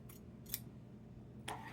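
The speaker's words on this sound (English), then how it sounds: "Take that again and cut a 1/4 inch away from the seam." Scissors snip quilt binding fabric in a quiet room, three short crisp cuts, two spaced early and one doubled near the end, close and faint otherwise.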